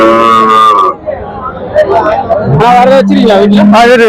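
Cattle low at a busy livestock market in Karimangalam in the early morning. Several drawn-out moos sound close and loud, with voices talking around them.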